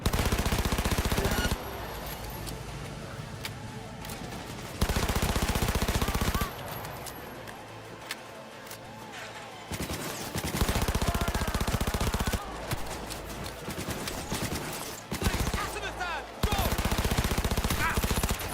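Automatic weapons chatter in the video game Cyberpunk 2077 in loud, rapid bursts that alternate with quieter stretches, several volleys close up and a few scattered shots between them.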